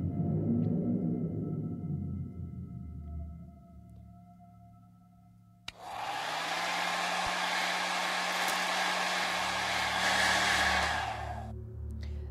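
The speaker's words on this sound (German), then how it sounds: "Ich würde ja fast tippen, dass wir mit dem Föhn das Eis um den Eimer schmelzen können, oder?" A hair dryer in the game True Fear: Forsaken Souls roars on abruptly and blows loud and steady for several seconds before cutting off, with faint tones and a low hum around it.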